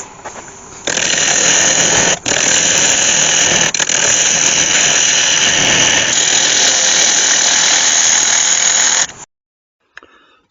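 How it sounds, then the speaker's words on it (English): Lathe turning down an ash wood bowl, a loud, continuous whirring cut with a bright squealing edge and a couple of brief dips, stopping abruptly near the end. "get it back on the lathe and get it all turned down"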